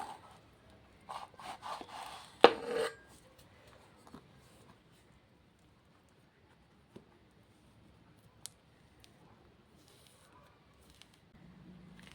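A knife cuts into a pomelo with a few soft scraping, squishing strokes close by, quickly fading to near-silence broken by faint clicks.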